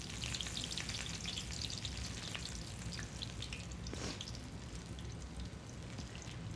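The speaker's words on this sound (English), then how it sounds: "you really want to control how you fry your shallots" Shallots fry in hot oil with a dense, steady bubbling crackle, moderately quiet and constant throughout, with tiny spatters popping over the hiss and no talking.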